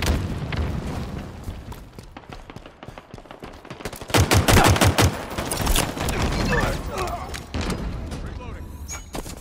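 Gunfire in Halo Infinite crackles in scattered shots, then a dense, loud burst of rapid automatic fire in the middle, with game voice callouts over the top.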